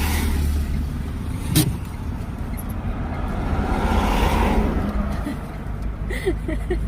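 A car engine starting and running in a loud, steady drone with some revving, close by and filling the whole stretch, with a brief sharp sound early on.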